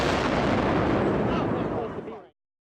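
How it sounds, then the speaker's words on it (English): A loud, dense blast of explosive noise near World Trade Center Building 7 in New York fills the opening moments with a rough, booming rumble, then trails off and stops abruptly, with a voice mixed into it. "the explosions we just heard must have come from some kind of celebration down in Chinatown"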